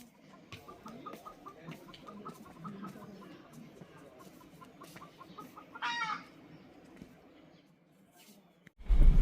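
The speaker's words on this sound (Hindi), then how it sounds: "एकदम नज़दीक से आ रही है, बहुत ज़्यादा परेशान है मुर्गा।" A rooster clucking and calling repeatedly in the forest, disturbed by a nearby tiger, with other fowl chattering around it, then a sharp louder squawk, all distant and faint.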